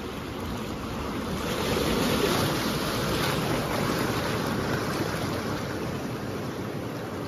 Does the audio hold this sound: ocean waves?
yes